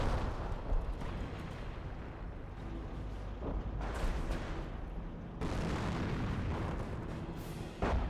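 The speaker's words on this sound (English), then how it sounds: "Another house barrage going in as well" An artillery barrage in the World War II strategy game Company of Heroes, heard as continuous low, rumbling explosions and booms with a few sharper blasts, fairly faint and distant in the mix.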